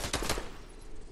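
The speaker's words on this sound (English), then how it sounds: "Someone's shooting at me." A burst of rapid automatic gunfire in a video game match, dense and loud, holding steady for about a second with no voices over it.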